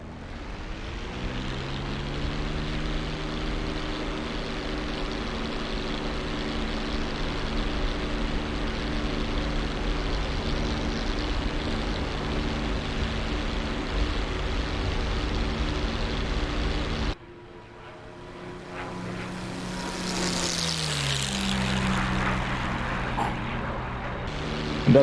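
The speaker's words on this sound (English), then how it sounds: "A loud airplane when I take off" A P-51 Mustang propeller fighter in the DCS World flight simulator roars through takeoff, its loud, steady engine drone holding for about seventeen seconds before a sudden cut and a rising, whining surge of power.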